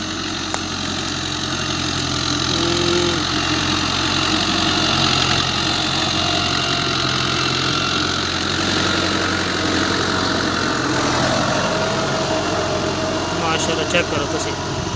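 A 640 model tractor engine idles steadily and loudly throughout, a continuous low rumble with vibration and faint background noise in an open field.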